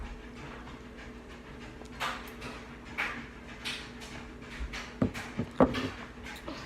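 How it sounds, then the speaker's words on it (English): A dog pants in quick, soft rhythmic breaths close by, with a few sharper sounds of movement near the end and no talking. "Look at my dog."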